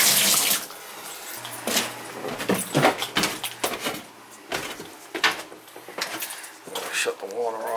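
Water runs from a Moen tub and shower valve whose cartridge is faulty and turns by itself, giving a close, steady hiss broken by repeated clunks and knocks of handling, with a faint voice now and then.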